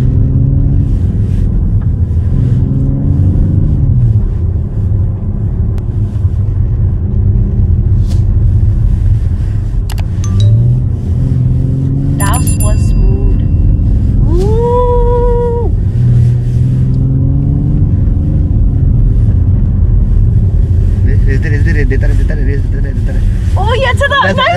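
A car's engine rumbles loudly and steadily while it drifts, with pitch rising and falling under wind buffeting and a voice talking throughout.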